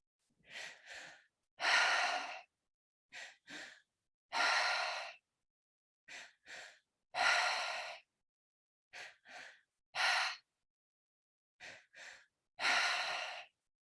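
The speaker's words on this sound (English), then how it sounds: "So really feeling your inhales expand into your lower belly, letting out all of the air on the exhale." Someone does a slow breathing exercise up close. A pattern repeats about five times: two quick sniffing inhales, then one long, airy exhale, each followed by a pause of silence.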